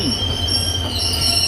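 The Kasganj–Kashipur 05336 passenger train rolls past nearby in India, its wheels squealing high and steady over a low rumble, loud and close, with no talking.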